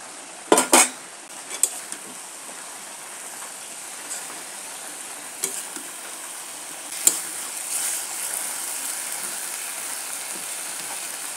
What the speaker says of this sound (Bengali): এখন আমি ঢাকনাটা খুলে নেব।